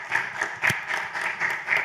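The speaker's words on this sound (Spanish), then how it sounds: "Un aplauso para ella." Brief, fairly faint rhythmic clapping from an audience at a construction-industry panel discussion, a few pulsing handclaps over about two seconds.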